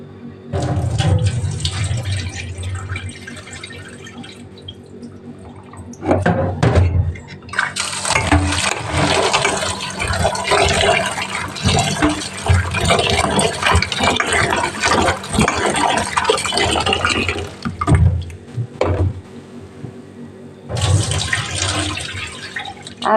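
Tap water runs over soaked kidney beans in a kitchen, with a steady splashing rush that stops briefly around the middle and resumes, with clattering of the beans and the bowl now and then.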